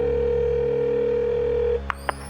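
A telephone dial tone plays over speakerphone as one continuous steady tone, then cuts off abruptly, followed by two brief clicks.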